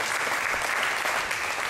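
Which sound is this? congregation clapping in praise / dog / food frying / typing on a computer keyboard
congregation clapping in praise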